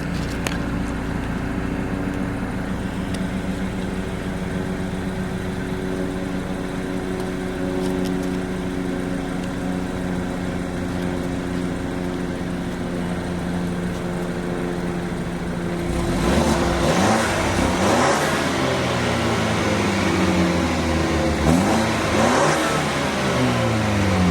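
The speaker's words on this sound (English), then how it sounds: "I'll show you guys a little of the exhaust sound" A 2014 BMW 428i xDrive idles with a low, steady exhaust rumble, then revs up several times in quick bursts near the end.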